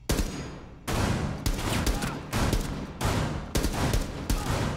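Repeated bursts of gunfire in the tactical shooter Rainbow Six Siege during a hostage-rescue round, loud and close, arriving as sharp volleys roughly every second with brief gaps between them.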